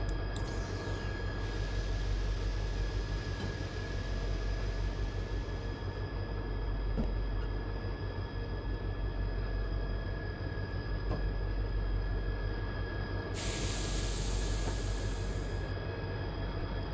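An SD45 locomotive in Train Simulator 2020 runs with a constant low rumble and steady mechanical drone, and a bright burst of air-brake hiss rises for about two seconds near the end.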